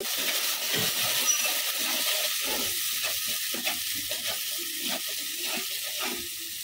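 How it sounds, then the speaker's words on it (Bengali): Bengali-style spice paste for a shol (snakehead) fish curry frying in a pan, with steady close sizzling, stirring scrapes and light clatter throughout, no voices. "মশলাটা ভালোভাবে কষানো হয়ে গেছে"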